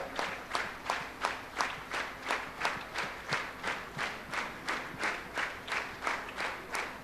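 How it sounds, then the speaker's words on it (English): Rhythmic hand clapping from a congregation at a Sunday church service in Pune, steady evenly spaced claps repeating for several seconds, moderately close with no talk over it. "Let us continue to clap our hands."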